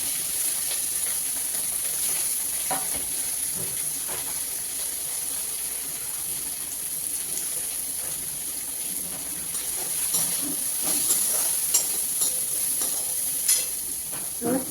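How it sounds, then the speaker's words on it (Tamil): Okra and carrot sizzle in a hot pan with a steady hiss, broken by scattered scraping stirs and pops, close up. "இந்த வெண்டைக்காவும் கேரட்டும் அதில் போட்டு வதக்கிட்டோம்."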